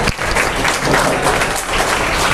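An audience at a Tamil lecture hall event on Periyar claps together in a dense, steady wash of applause that runs throughout, loud and close.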